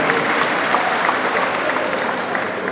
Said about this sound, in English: Please put a round of applause for the government.